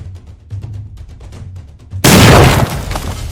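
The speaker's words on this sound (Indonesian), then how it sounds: "Kue pernikahan di atas meja itu meledak." After quiet thuds, a wedding cake on a table explodes in a sudden loud blast, followed by crackling, shattering glass and debris that fades into lingering noise.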